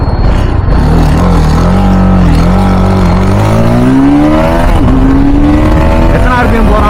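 TVS Apache RR310 motorcycle engine revving hard toward 10,500 RPM on a ride, a loud, close, rising buzzing whine that climbs steadily in pitch with heavy vibration, wind roar underneath and a brief voice.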